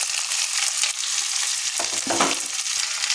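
Chopped onion, green chili and tomato hit a hot pan and fry with a loud, steady sizzle and stirring scrapes throughout, close up with no voices.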